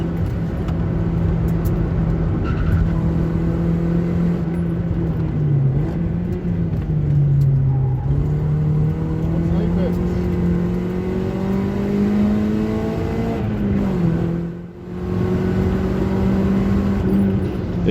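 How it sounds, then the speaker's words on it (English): Nissan Sentra of 140 hp racing at Taupo circuit, its engine droning steadily with rising and falling revs through gear changes, a sustained close in-car rumble with no talk. "It took all of my 105 kilowatts to chase down this WRX."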